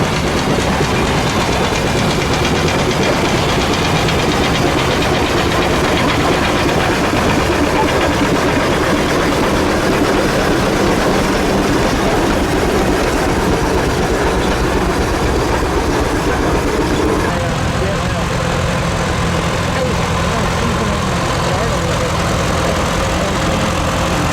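A John Deere Model 520 tractor at a threshing show in Edgerton, Wisconsin rumbles past with a steady, loud, unbroken engine drone that drops a little in intensity partway through.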